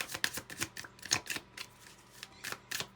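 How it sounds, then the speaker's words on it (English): A tarot card deck shuffled by hand gives a close, quiet run of crisp riffling and slapping card sounds in quick irregular bursts, with no talk. "I need to shuffle a little bit more first"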